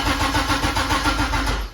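A Porsche with a swapped-in LS V8 cranks and starts, its engine churning in a loud, even, rapid pulsing rhythm up close before dropping off at the end.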